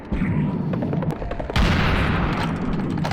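Gunfire in the video game Serious Sam, a dense rapid burst of loud shots with a heavier blast midway, continuous and close, no voices.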